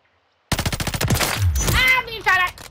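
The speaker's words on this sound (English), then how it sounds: "I'm being shot at!" Rapid machine-gun fire in Modern Warfare III, a quick burst of evenly spaced shots starting abruptly, followed by louder sustained gunfire and weapon sounds close up.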